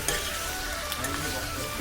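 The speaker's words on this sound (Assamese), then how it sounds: "আৰু এইখিনি এতিয়া ধুনীয়াকৈ পানী যোৱালৈকে ভাজি ল'ম" Spices fry in a pan in a home kitchen, giving a steady, fairly faint hissing sizzle that holds evenly throughout with no voices.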